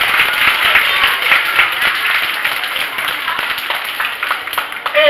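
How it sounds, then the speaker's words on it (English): A group of children claps for themselves, a bright, busy patter of many small hands that holds fairly even across the whole stretch, with faint voices mixed in. "And the next one is to look this way and give yourselves a round of applause."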